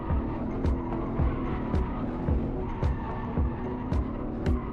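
Engine roars steadily while tires squeal in short repeated bursts, a car drifting hard through a corner, loud and close.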